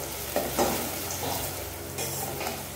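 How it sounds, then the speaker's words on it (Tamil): Small onions sauté in hot oil with mustard seeds, cumin, fenugreek, curry leaves and green chillies, sizzling steadily up close while a spoon stirs and scrapes the pan. "நல்லா ப்ரௌன் கலர் ஆகிற வரைக்கும் நல்லா வதக்கிட்டே இருப்போம்."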